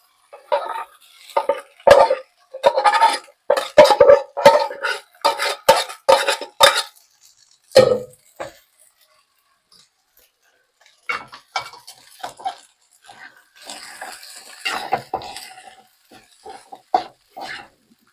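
Rice tipped into a metal pot for tomato rice and stirred: a run of sharp scraping clinks and clatters of a spoon against the pot, close and busy, then a pause and softer, scattered stirring scrapes.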